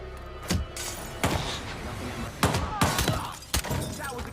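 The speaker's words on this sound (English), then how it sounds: "That was a gunshot!" Gunshots in the video game Hitman 3 ring out as several sharp, loud bangs spaced irregularly over a few seconds, with faint voices in between.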